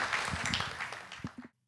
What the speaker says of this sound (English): please continue that applause for our panellists, Kate Colvin and Amy McVie